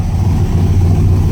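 A 1966 Corvette engine running steadily at idle without being revved, a loud close low rumble that stays even for the whole moment.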